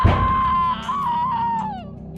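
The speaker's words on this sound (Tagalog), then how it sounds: "Halos mabingi ako noon dahil sa matinis na sigaw ng babae." A woman's shrill, sustained scream rises sharply, holds a high wavering pitch, then trails off, loud and close over a low rumbling background, within a spooky aswang horror tale.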